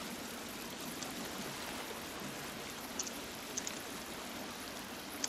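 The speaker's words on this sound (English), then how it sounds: "I hear a waterfall." Steady waterfall rush in a cave area of the video game The Forest, a constant faint broadband hiss with a few small ticks and no speech.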